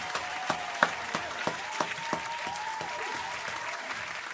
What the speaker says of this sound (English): Round of applause to them, man.